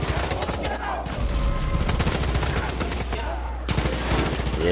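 Rapid bursts of automatic gunfire crackle through a Far Cry 5 firefight, loud and dense throughout, with a voice talking faintly underneath.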